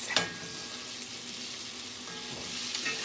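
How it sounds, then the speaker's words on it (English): Onions sweat down in a pan with a steady, even sizzle and hiss, plus a few light scrapes near the start and no voices. "But I'm still trying to sweat down these onions."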